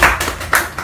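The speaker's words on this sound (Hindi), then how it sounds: "एक बार इनके लिए जोर से ताली मार दीजिए।" A few claps for a student who has just repaired an iPhone's graphics fault during a live training class, two or three brief bursts close by in a small room.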